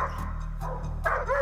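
A police service dog from a federal police dog unit barks repeatedly, close and loud, in short yapping bursts with whimpery tones and a steady low hum underneath.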